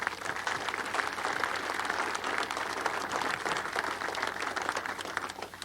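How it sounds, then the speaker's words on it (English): A crowd applauds the spouses at the 1998 grand opening of the Lake Wobegon Trail, steady dense clapping that holds at an even level throughout without letting up. "Now let's give a round of applause for their spouses"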